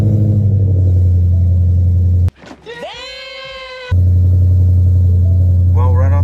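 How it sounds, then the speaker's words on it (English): Car engine with MSD Street Fire ignition coil packs cranking over and catching, a brief sharp starter whir rising into a revving start, heard between spans of loud steady background noise. "Test start with the Street Fire coil packs."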